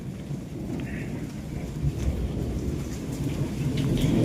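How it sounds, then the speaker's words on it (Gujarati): A heavy downpour during an early-summer storm in Gujarat pours steadily while low thunder rumbles beneath it, swelling louder toward the end. "ગાજે છે કેવો સંભળાતું હોય તો તમને."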